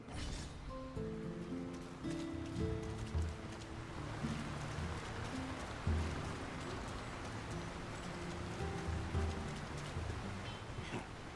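Steady rain falls over a fantasy town at the main gateway of Fornost in Lord of the Rings: War in the North, a continuous soft hiss heard under quiet music.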